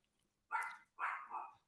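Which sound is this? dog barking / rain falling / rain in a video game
dog barking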